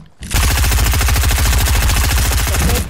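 Rapid automatic gunfire from the video game Fortnite rattles loud and close in a sustained, evenly spaced burst that begins after a short quiet lead-in and runs nearly to the end.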